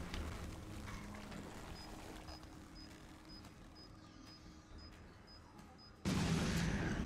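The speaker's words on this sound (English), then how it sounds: "I love these bombs. They are so useful." Bombs exploding in the Resident Evil 7 video game, dull muffled booms and rumbling under a low, dense game ambience, ending in a sudden loud noisy burst near the close.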